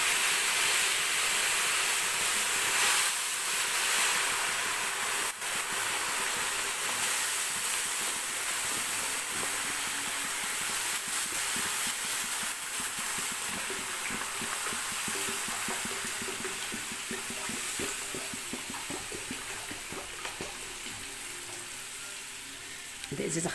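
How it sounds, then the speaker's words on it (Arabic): Water poured into a hot pan sets off a loud, continuous hiss and bubbling sizzle that holds for over twenty seconds and slowly fades, heard up close with no talking over it. "خلي وشك بعيد وانت بتحط الميه"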